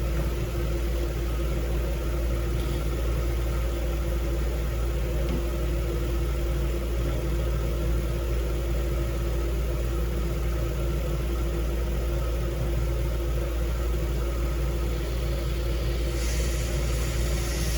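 A 2007 Buick Lucerne engine runs at a steady idle with a vacuum leak, a constant low rumble with a faint hiss, no talking.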